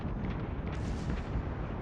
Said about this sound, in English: here we're gonna do a couple HE rounds